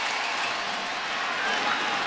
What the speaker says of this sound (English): you hear the support from this overwhelmingly partisan Seminole crowd